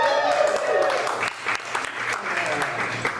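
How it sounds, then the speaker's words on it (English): Comedy club audience clapping and cheering for a stand-up comic, a burst of applause that fades into scattered claps while voices carry over it. "Thank you for clapping for me being alive."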